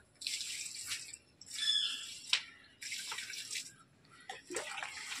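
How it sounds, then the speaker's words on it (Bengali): Water poured or sprayed onto potted plants, including dahlias, on a rooftop in early morning, a close splashing and gushing in several bursts with brief pauses, alone without voices. "তোমাদের দাদার গাছে জল দিচ্ছে।"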